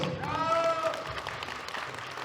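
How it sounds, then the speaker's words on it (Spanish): Wedding guests applauding the newlyweds at a reception, a steady wash of clapping that follows a brief raised voice and carries on alone. "Aplausos."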